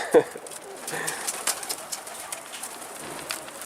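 A pigeon coos softly nearby, its low murmuring call set against faint outdoor background noise with a brief sharp sound at the start.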